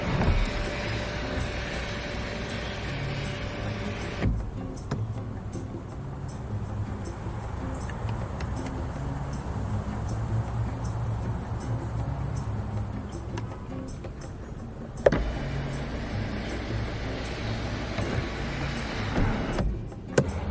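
The power sunroof of a 2021 Infiniti Q60 Red Sport 400 slides open with a steady electric motor whir inside the cabin, running for several seconds before stopping with a soft clunk.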